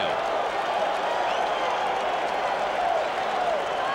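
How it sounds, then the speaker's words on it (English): A large baseball stadium crowd at the 1986 World Series roars and claps at a distance, a continuous wash of cheering and applause with a few whistles rising above it. "Now with Clemens, you hear the crowd, they want to walk"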